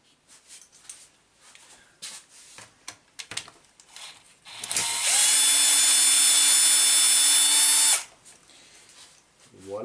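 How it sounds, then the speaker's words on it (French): A screwdriver bit driving a screw on a Losi SRR RC car gives one steady, loud whirring burst of about three seconds, with handling clatter before and after. "J'ai l'embout qui tourne sur lui-même. C'est encore manique à serrer cette vis à tous les coups."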